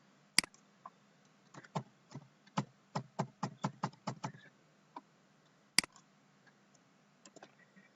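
A customer's name being typed on a computer keyboard in courier management software, a quiet run of about a dozen quick clicking keystrokes, then a few scattered taps, with no talking.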